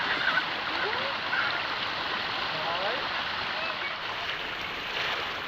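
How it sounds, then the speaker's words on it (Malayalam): A continuous, even rush of clear, cold stream water beside an off-road track at Mallankuzhi, Kadangode, holding a close, steady wash throughout. "നല്ല തെളിഞ്ഞ വെള്ളമാണ് വരുന്നത് കേട്ടോ"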